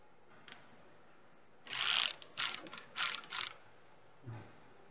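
Ratchet clicks in several quick bursts as tiny T20 bolts are backed out of an Audi A4 2.0L BWT engine during timing chain work, close and fairly loud, with a faint clack before and a dull knock after.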